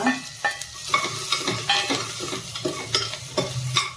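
Onions frying in a pan for a ridge gourd chutney and stir-fry, with steady close sizzling broken by repeated scrapes and clanks of stirring.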